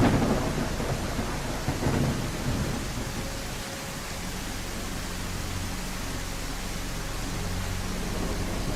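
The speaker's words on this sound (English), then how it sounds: "It's too early for a storm" A thunderstorm in the video game I Am Jesus Christ, with heavy rain hissing continuously and deep rolling thunder rumbling underneath, strongest at the start and then settling into a steady downpour.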